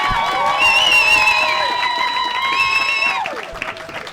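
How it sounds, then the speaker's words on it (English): An audience at the Hot Water Comedy Club cheers loudly, with whoops and clapping swelling for about three seconds before tapering off. "Cheer more for Don Biswas, everyone!"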